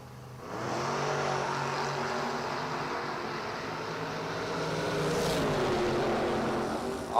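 An S10 and a Mopar drag racing cars launching at a dragstrip, a loud sustained engine roar rising in pitch as they pull away, with a brief whoosh near the end and no talking.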